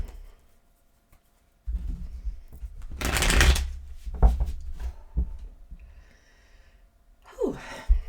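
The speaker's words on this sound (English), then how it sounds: "A couple more shuffles." Tarot cards from a Runic deck riffled and shuffled in a close, papery burst lasting a couple of seconds, followed by a few softer shuffles and brief handling noises in a quiet room.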